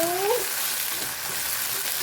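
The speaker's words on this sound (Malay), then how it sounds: "Kita goreng ya." Spice paste ingredients frying in hot oil for clam rendang, a steady, dense sizzle filling the space at close range with a brief tonal squeak near the start, no talking.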